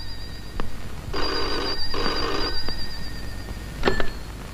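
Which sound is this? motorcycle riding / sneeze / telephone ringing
telephone ringing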